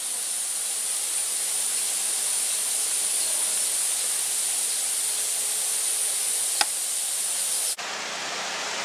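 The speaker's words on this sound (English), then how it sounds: "So I'll turn the sprays on now." Water misters spraying to cool llamas in a barn during a hot French summer, a steady close hiss that runs unbroken, with a brief click near the end as the spray shifts.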